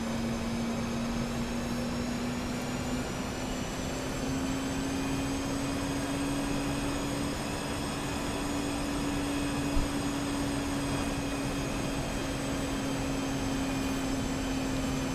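An Airbus A320 on landing approach in the X-Plane flight simulator gives a steady, loud engine drone with a sustained whine that rises slightly in pitch, continuous and without talk.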